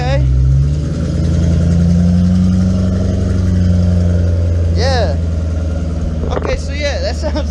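A car engine with a cheap aftermarket eBay exhaust rumbles loudly and steadily up close, with a deep droning tone, while people talk briefly over it near the end.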